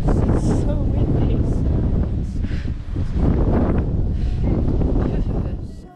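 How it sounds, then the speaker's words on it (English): Strong wind buffets the microphone on a hilltop in Assisi, Italy, a loud continuous roaring rumble with gusty swells over several seconds. "This is so windy."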